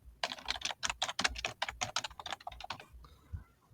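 Quick, crisp keystrokes on a computer keyboard come as a close, steady burst of clicks, about two dozen in under three seconds, and then stop.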